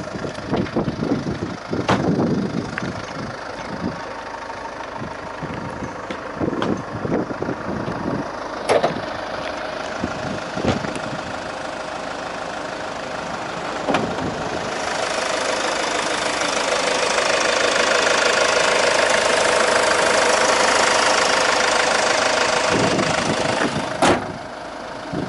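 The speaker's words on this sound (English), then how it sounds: "So with the engine running, let's have a little listen under the bonnet." A car engine idles under an open bonnet, ticking and knocking steadily at close range with scattered clicks, then swells into a louder, even whoosh for several seconds before settling back, with no talking.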